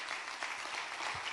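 A church congregation claps during a sermon, a dense and steady burst of applause close by that fills the whole moment with faint voices beneath.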